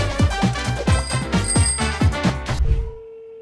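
Outgoing phone call tone before the line reaches voicemail, a melodic ringing sequence of repeated chiming notes that plays for about three seconds, then cuts off to a faint lingering tone.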